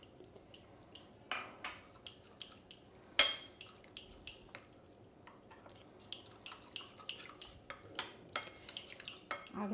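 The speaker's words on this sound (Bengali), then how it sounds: "অল্প অল্প করে জল দিয়ে একটা ব্যাটার বানিয়ে নেব।" A spoon beats batter in a bowl as water is added a little at a time, making a quick rhythmic series of close clinks and taps, with a sharper knock partway through.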